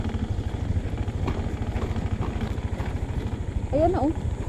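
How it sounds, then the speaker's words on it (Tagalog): A motorcycle engine idles with a steady, rapid low thumping throughout, on a road to a campsite in Norzagaray, Bulacan; people talk over it and a short chirping sound rises near the end. "Oh, ang motor ni Iyok"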